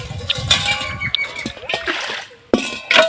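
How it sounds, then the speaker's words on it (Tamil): Fish being rinsed in water in a village kitchen, with busy splashing and sloshing close by that pauses briefly then resumes, while a person talks over it. "மீன் அலசின தண்ணி நல்லா வெள்ளையாக வர்ற அளவுக்கு அலசிடுவோம்"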